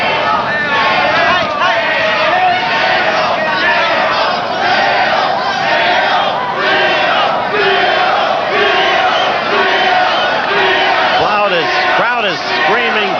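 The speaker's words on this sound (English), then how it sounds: "Crowd is screaming" Boxing arena crowd at the Jorge Lujan vs Cleo Garcia fight, loud and sustained: massed screaming and yelling roars continuously, with rising shouted chants near the end.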